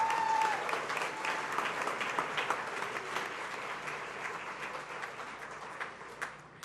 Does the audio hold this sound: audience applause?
yes